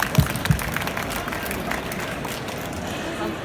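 A Q&A audience in Brussels breaks into applause, a broad patter of clapping and crowd noise that starts with a couple of sharp claps and holds steady.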